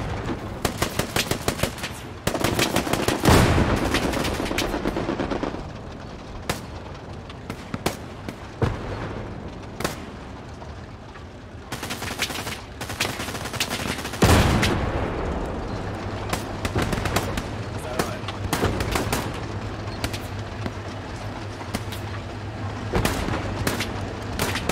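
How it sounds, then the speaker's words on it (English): Strafing gun fire in the video game Hell Let Loose: long, loud bursts of rapid automatic shots with booming impacts, continuous and dense throughout, with no talking. "Ok, strafing gun is live"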